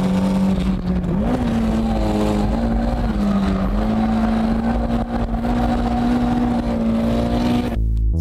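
A Toyota AE86 Hachiroku drifting, its engine held high and revving steadily in a continuous loud drone with slight pitch rises, close and alone, cutting off abruptly at the end.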